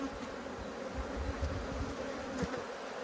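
Angry honeybees swarm during a hive inspection, a dense, steady buzz of many wings close around, with a few louder passes of single bees near by and no voices.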